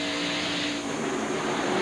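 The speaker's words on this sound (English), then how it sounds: "This is from Rusty's car. Go in the corner. Get on the brakes" Onboard sound from a 1993 NASCAR stock car braking into a corner at a Transouth Financial 500 race, a loud close engine roar with a slight falling and then rising whine, and no voices.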